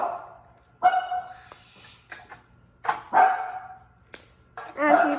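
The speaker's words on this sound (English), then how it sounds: "my dog is barking in the background" A pet dog barks in repeated bursts in the background of a home kitchen, its sharp yaps rising between stretches of quieter room sound while people talk nearby.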